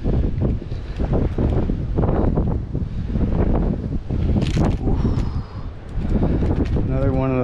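Strong wind gusting across a microphone on the Oregon coast, a loud, rushing roar that rises and dips with the gusts while a person talks over it.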